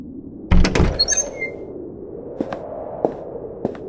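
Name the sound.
heavy wooden doors being pushed open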